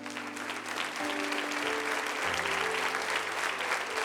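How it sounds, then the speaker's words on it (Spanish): A church congregation claps loudly together during a Sunday service, a dense sustained wash of applause throughout, with a low held organ or keyboard chord sounding beneath it. "Dale un fuerte aplauso a Dios."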